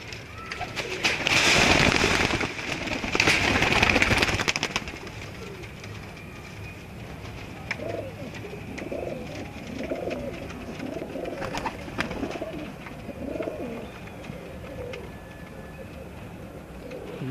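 Soft blue Kamgar pigeon coos repeat in low murmuring phrases, preceded by a couple of loud bursts of broadband noise near the start.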